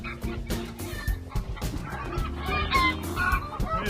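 Upset chickens cluck and squawk in a busy, overlapping chorus outdoors in snow, close by and continuous, with irregular sharp calls breaking through.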